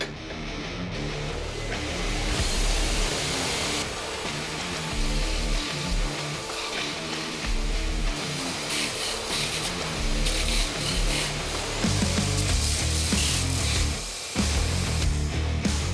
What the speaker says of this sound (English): This big old precision grinder has been retrofit with a sanding belt.